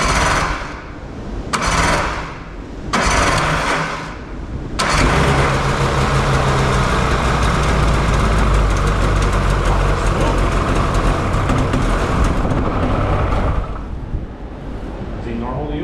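An Indy Specialty Starfire 862cc stroker engine cranks in a few short bursts, then catches and settles into a loud, steady idle that keeps running to the end, with voices faintly underneath.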